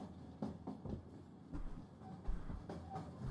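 A train ride in the game Escape Simulator rolls along with a low rumble and rhythmic clicking of the wheels, fairly quiet and steady.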